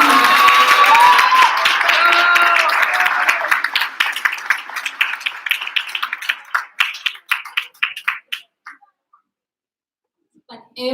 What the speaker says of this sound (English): So big round of applause again for them